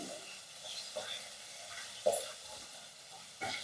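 Fish frying gently in a pan over low gas in a home kitchen, a faint, steady sizzle with a couple of soft utensil clinks.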